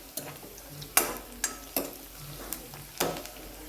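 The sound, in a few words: cumin and ginger garlic paste frying in hot oil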